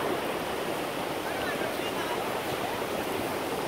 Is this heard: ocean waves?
yes